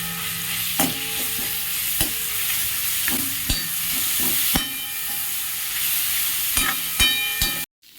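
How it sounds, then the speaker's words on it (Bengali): Grated carrot frying in hot white oil while being stirred, a continuous loud sizzle broken by sharp spatula knocks and scrapes against the pan, close up, ending abruptly. "দিয়ে দেবো সেই কুড়োনো গাজরটা আমি কুড়িয়ে নিয়েছি। একটু মোটামুটি নেড়ে চেড়ে ভেজে নেব।"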